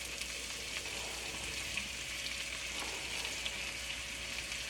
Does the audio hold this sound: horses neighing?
no